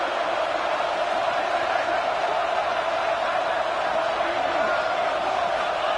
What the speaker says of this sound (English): They go for 2 and the win, and the crowd roaring,